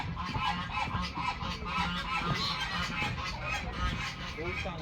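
Geese honk repeatedly at Minsk zoo, steady calls close by and mixed with people talking.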